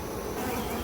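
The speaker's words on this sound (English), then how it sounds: "Now I hear the buzz in this box when they're indicating to me that they don't detect the presence of their queen." Honeybees in a hive box that cannot sense their queen give off a close, steady, continuous buzz.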